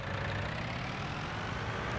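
A tractor engine idles in the Farming Simulator 19 video game, a steady low rumble that holds at constant loudness throughout, with no voices over it.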